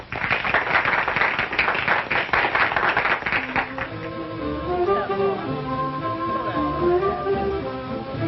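Crowd applause and clapping for a few seconds, then it fades as music with singing begins.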